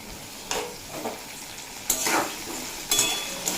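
Malabar spinach stems fry in a pan with a soft, continuous sizzle, broken by several brisk scraping stirs of a utensil against the pan.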